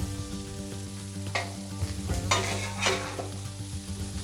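Mushrooms frying in oil on a flat-top griddle, a steady close sizzle punctuated by a few sharp scraping strokes of a spatula, no voices.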